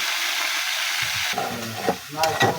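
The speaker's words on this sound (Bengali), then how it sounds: "পেঁয়াজ লাল লাল করে চিংড়ি মাছ দিয়ে দিয়েছি" Onions and shrimp fry in a pan with a steady bright sizzle, then a spatula stirs and scrapes through them in a few close, uneven strokes that briefly disturb the hiss.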